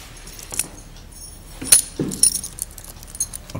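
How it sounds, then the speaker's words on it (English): A bunch of keys jangles in short bursts as it is passed from hand to hand inside a school, with a few metallic clinks spread over a few seconds against quiet background. "Give the keys to Rory"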